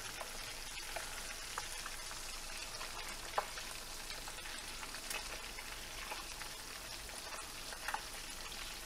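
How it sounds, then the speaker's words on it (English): Thin crappie fillets frying in a pan, a faint continuous crackling sizzle with occasional small pops, no talking. "Just gonna let us fry in here."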